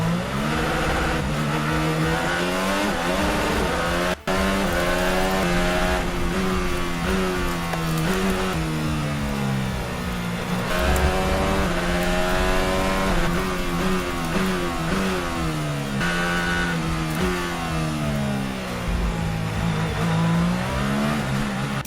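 Formula 1 cars racing at the 2017 Chinese Grand Prix, a loud continuous high-revving engine whine with pitch sweeping up and down through gear changes as cars pass close, with no talk.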